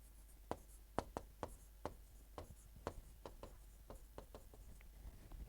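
Pen or marker writing during an online math class: a run of quick, faint scratching taps and strokes at an irregular rhythm, close to the microphone, with no talk.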